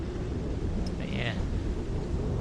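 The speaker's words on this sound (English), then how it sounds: "wind's picked up a bit now" Wind rushes steadily past a sailing boat on a Scottish loch, a constant low buffeting roar close to the microphone with no breaks, a brief faint whistle rising above it midway.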